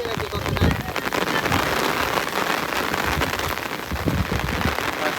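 Heavy rain pours down on a paddy field during rice transplanting, a dense, continuous hiss of drops striking water and soil, close and loud from start to finish.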